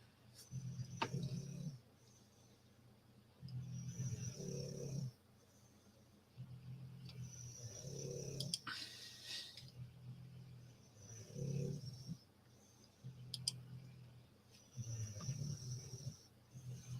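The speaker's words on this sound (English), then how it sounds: "That's the two bulldogs snoring at the moment." Two bulldogs snore at once, one of them old, in slow repeating rough, low breaths that rise and fall in a steady rhythm, faint and close in a quiet room.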